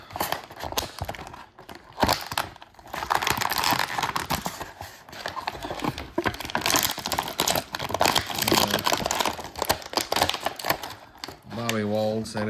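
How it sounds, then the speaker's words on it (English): Plastic and paper packing crinkle and rustle in uneven bursts as G.I. Joe items come out of a battered mail box, with someone talking over much of the noise. "here comes some crinkling"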